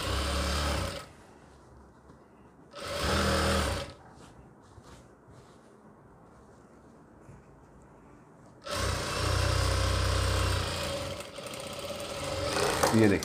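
Sewing machine stitching a gown for a 12-year-old girl, heard as two short whirring runs early on and then a longer steady stitching run through the last few seconds, close up, with a voice talking in the quieter gap.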